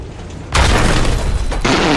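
A tank blown up by a mine in the Battlefield video game, a sudden loud blast that bursts in after a quiet moment and roars on with rumbling debris, followed by a second surge.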